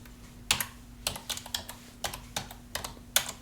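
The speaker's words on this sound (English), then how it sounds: "I'm going to type in this here." Keys on a computer keyboard clatter in quick irregular bursts of clicks, close and fairly quiet, with no talking over them.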